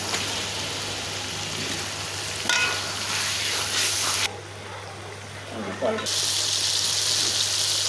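Chicken pieces drop into a pan of sizzling, well-fried spice masala with turmeric for a chicken and cabbage curry, giving a loud continuous hiss with stirring scrapes that dips briefly before the frying roars back.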